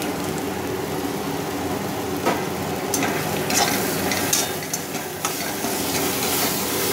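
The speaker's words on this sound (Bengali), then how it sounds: "কুমড়োগুলো ভাজা হয়ে গেছে, এবার মশলাগুলো আমি দিয়ে দিলাম।" Spices being stirred into pumpkin frying in a pan for Bengali pumpkin chhokka, a steady close sizzle with scraping stir strokes and a few sharper clicks, no talk.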